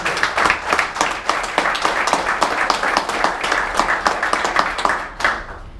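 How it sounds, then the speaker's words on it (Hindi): Audience applause at an open business seminar in Mumbai, many hands clapping in a brisk, fairly even rhythm that stays steady for several seconds before cutting off abruptly. "एक जोरदार तालियां"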